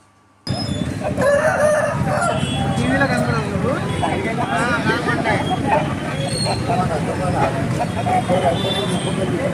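A rooster crows amid busy clucking and chatter of many birds at a country chicken market, with people talking nearby throughout.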